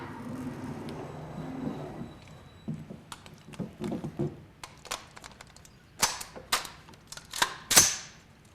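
Shots ring out at an indoor shooting range, a string of sharp sparse cracks that get louder and closer together toward the end, with quiet stretches between them and no talk.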